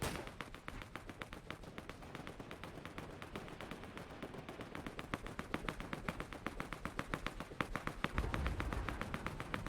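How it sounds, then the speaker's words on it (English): Rapid gunfire in a Fortnite trios match, dense bursts of sharp shots repeating quickly and evenly throughout, moderately distant and fairly quiet, with a heavier thud near the end. "Lots of shots fired"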